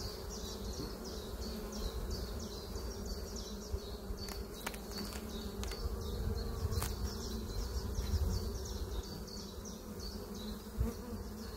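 Honeybees buzzing inside an open hive during frame inspection, a dense steady hum filling the whole stretch, close and continuous, with occasional faint knocks and no talk.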